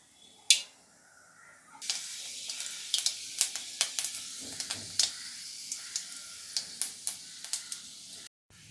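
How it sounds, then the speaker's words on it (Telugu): Mustard, cumin and fenugreek seeds spit and pop in hot oil for a mango drumstick sambar, a faint hissing bed broken by a run of sharp, evenly spaced crackles, close and without talk. "ఆవాలు, జీలకర్ర, మెంతులు వేగినాయండి"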